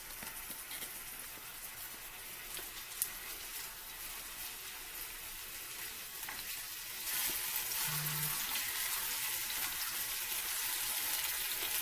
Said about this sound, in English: So you can see that the garlic is starting to fizzle